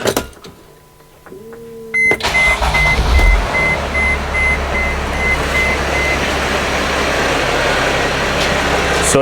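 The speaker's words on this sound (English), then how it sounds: "So as you can hear, the engine is running." A Mercedes Sprinter van with an EGR solenoid fault code starting up after chimes and electronic beeps, then its engine idling with a steady, low rumble, close and continuous.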